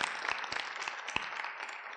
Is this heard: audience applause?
yes